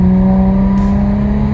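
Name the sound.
Nissan G35 with rear-mount turbo accelerating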